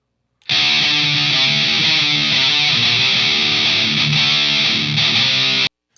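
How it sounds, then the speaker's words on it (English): A thick, heavily distorted electric guitar chord through a Universal Audio Anti 1992 high-gain amp rings out loud and sustained for about five seconds, then cuts off abruptly. "this offers so many different layers of distortion, types of distortion"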